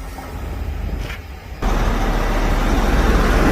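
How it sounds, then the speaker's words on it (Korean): A Euro 6 engine fitted with a new carbon separator and filter is started. Low idle noise drops briefly, then a sudden loud, deep rumble takes over and holds steady, close by. "예, 시동을 걸었습니다."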